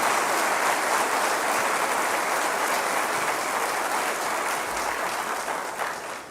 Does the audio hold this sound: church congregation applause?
yes